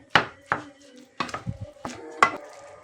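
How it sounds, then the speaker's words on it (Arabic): Food with coriander is mashed together in a dish, giving five or six sharp, close knocks and thuds of the masher or spoon hitting the container, spaced irregularly with no talk. "وهنهرس كله مع بعضه بقى"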